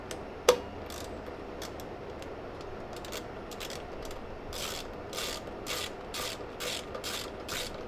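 Socket ratchet clicking in short repeated bursts while tightening bolts in a star pattern on a Harley-Davidson motorcycle being turned into a bobber, close and moderately loud, with no talk.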